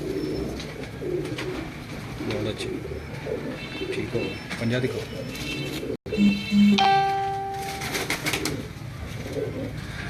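Teddy pigeons bred by a breeder coo softly in a loft, low murmuring calls under steady nearby talk, with a brief clatter and chirpy bird sounds partway through.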